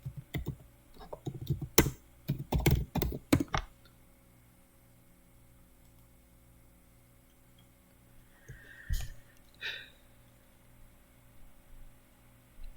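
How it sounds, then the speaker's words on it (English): Close bursts of keyboard typing: a rapid cluster of crisp key clicks, a quiet pause under faint hum, then a few more scattered clicks and taps near the end. "I'm just gonna type in vertically center and see what happens."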